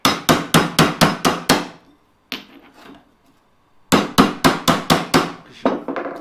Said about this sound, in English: Again, hitting the material right on the edge.